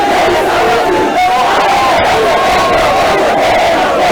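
Dense crowd greeting Congolese politician Martin Fayulu at the airport, a loud continuous mass of shouting, chanting voices and chatter close by, with no pause throughout.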